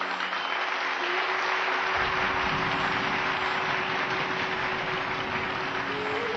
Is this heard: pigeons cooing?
no